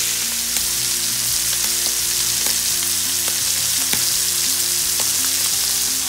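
Thai chili skirt steak sizzles and fries steadily in a hot pan, a continuous close crackle with occasional sharper pops and no voices.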